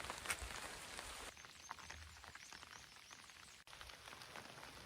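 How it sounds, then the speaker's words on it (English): Soft, steady rain patters on surfaces along the Benton MacKaye Trail, quiet and continuous, with a brief muffled knock partway through. "Raining."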